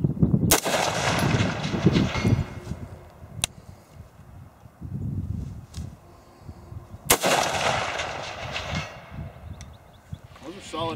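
A Bison Armory 6.8 AR-15 rifle firing 90-grain moly-coated Speer rounds lets off two sharp, loud shots several seconds apart outdoors, each ringing out over a rumbling background, and people talk quietly between them.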